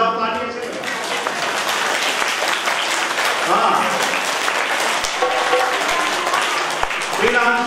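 Audience applause at a national Arya youth council foundation-day gathering, a dense sustained wash of clapping filling the hall, with a voice talking over it throughout.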